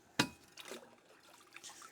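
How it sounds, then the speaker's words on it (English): A rusty metal part, cleaned in a homemade electrolysis tank, is rinsed in water, giving a sharp splash followed by light dripping and trickling sounds, fairly quiet and without talk. "rinse it in the water"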